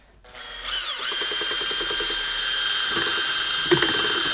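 A power drill spins a bent welding rod to stir primer, starting with a brief click and then whirring up to a loud, steady high-pitched whine that holds to the end, with a slight wobble as the mixing rod churns.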